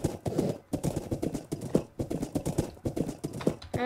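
Horse hooves clip-clop in a steady, brisk rhythm from a video game, loud and close with evenly spaced hoofbeats throughout and no talking.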